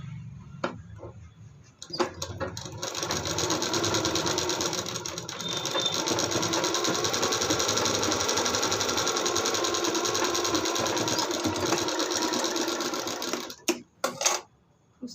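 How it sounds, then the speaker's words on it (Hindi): A sewing machine stitches a blouse button placket in one long, continuous run of about eleven seconds, a close, even whirr with a rattling mechanism. It starts and ends with a few light clicks. "इस पे सिलाई लगाएंगे"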